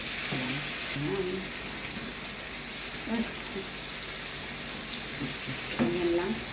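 Okra fries in olive oil with a steady bright sizzle and crackle, punctuated by occasional stirring clatter, close and fairly quiet.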